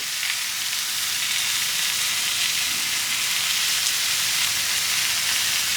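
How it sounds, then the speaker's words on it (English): Steady, loud sizzling of burger patties frying on a hot grill, a continuous crackling hiss with no voices. "Hear it sizzle?"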